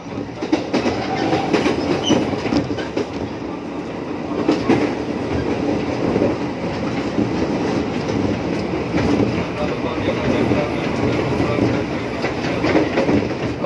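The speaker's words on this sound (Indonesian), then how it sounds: "Masuk di stasiun Jurang Mangu." A commuter train entering Jurang Mangu station, with a steady rumble of wheels and carriages plus rhythmic clickety-clack over the rails, loud and continuous from inside or close by.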